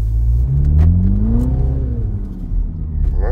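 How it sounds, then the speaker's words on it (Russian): A Mini Countryman John Cooper Works engine revs and roars through its exhaust with valves open, pitch rising and falling in a deep, loud, throaty burst close by. "Плюс открываются заслонки, которые нам открывают выхлоп. И звук становится вот такой."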